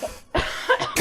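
A person gives a quick series of about three dry, close coughs in rapid succession, with no speech.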